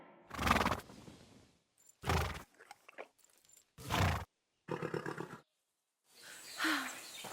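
Horse in Kingdom Come Deliverance II snorting and whinnying in several loud bursts with pauses between, a shuddering nicker in the middle and a longer whinny at the end.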